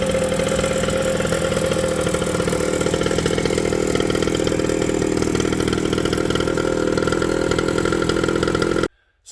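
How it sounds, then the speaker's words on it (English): A motorcycle engine runs steadily at a loud, rough idle with a constant low throb, close to the microphone, then cuts off abruptly near the end. "I will show you guys the bike running right now from earlier today"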